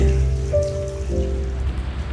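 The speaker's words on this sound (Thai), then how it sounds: "ฝนตกนะเสียดาย" Steady patter of rain on a surface in Pattaya, Thailand, moderate and continuous, with a faint tonal hum running underneath.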